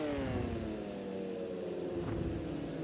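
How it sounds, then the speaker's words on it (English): GT race car engine roaring in the Project Cars 2 racing game at the Hockenheim Classic circuit, with a sustained harmonic engine drone and turbo overrun over the nearly three seconds, steady and fairly strong. "That turbo overrun is just poetic, isn't it?"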